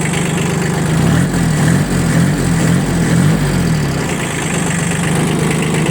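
A Kubota B1502 mini tractor with a tiller attachment idles steadily after starting, its small diesel engine giving a continuous, even low rumble close by, with no talk over it.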